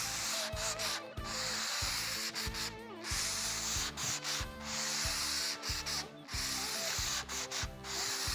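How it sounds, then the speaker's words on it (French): Sandpaper worked by hand along the edge of a wooden guitar body gives steady, rhythmic back-and-forth rasping strokes, close and fairly loud, with no voices. "qui consiste à un petit peu moins poncer, à relever légèrement sa main quand on arrive au bord"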